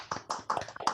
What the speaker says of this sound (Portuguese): Vamos bater palma e abram as câmeras.